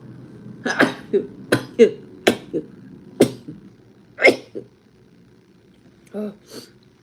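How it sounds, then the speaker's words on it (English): A quick run of sharp, explosive sneezes close to the mic, several bursts in a row, followed by a short voiced sound near the end. "let me sneeze"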